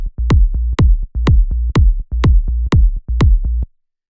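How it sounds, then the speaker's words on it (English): Basic afro house kick and sine-wave bass pattern: seven evenly spaced punchy kicks, each followed by a sustained low bass note, in a steady loop that stops cleanly at the end. "We have a basic kick and bass pattern that sounds like this."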